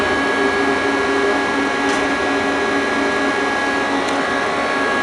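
A 1982 Mori Seiki AL-2 CNC lathe with hydraulic chuck and 8-position turret runs steadily, giving a constant machine hum and whine with faint clicks, close by and alone.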